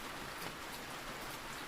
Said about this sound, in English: The rain outside your window is steadier than the seasons